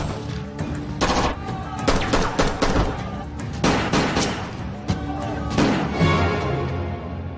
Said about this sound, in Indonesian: ia ditemukan oleh Mustafa dan Zaveria, sehingga baku tembak pun terjadi